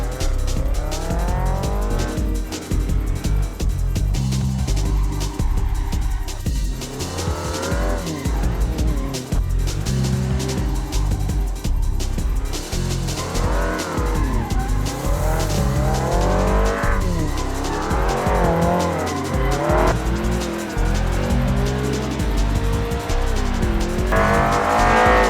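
A BMW E30 with inboard brakes driven hard in the Assetto Corsa racing game, its engine droning loudly and continuously with repeated rising revs and tire squeal through the corners.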